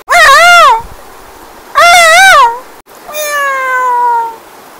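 A man imitates a cat, giving three drawn-out meows, loud and close. The first two rise and fall, and the last is a long, slowly falling wail. Short pauses separate them.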